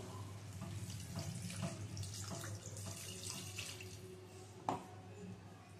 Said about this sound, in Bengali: এখন দিয়ে দেবো এর মধ্যে জল